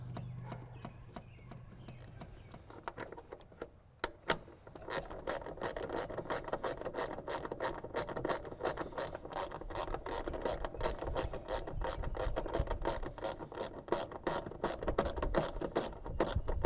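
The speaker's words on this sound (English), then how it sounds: "just to bolt it back together, which we'll start with these two on the firewall and then work our way around the perimeter bolts" A hand ratchet tightens bolts on a car's firewall during an A/C system install, its rapid, even clicking close and continuous after a quieter start with faint handling noise.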